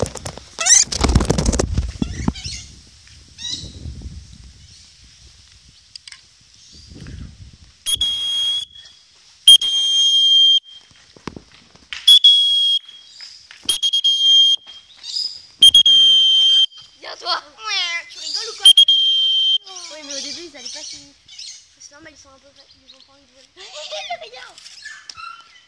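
Pet lorikeet parrot giving a series of shrill, piercing whistles, each a short steady tone repeated several times with gaps, interspersed with chirps and scratchy calls, a person speaking and coaxing at the start.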